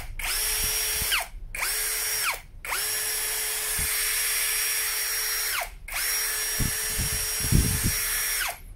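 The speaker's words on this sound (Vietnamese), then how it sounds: "Cái tiếng máy của Fibon chạy khá là im nha." Fibon cordless drill-driver with hammer and screwdriver modes, its motor whining steadily in four bursts separated by short pauses, close and fairly loud with no talk over it.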